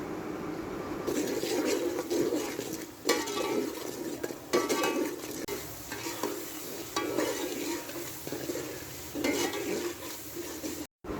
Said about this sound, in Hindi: तो अब हम इसमें डालेंगे अदरक और लहसुन का पेस्ट और सब्ज़ मिर्चें और स्पाइसेस। अब हम अच्छे से इसका मसाला बना लेंगे।